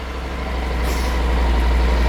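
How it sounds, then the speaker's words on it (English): A 2012 Honda NC700X ABS motorcycle engine turns over and settles into a steady, loud, low idle that builds slightly and holds close by with no talk. "So we'll just have a quick start with this bike."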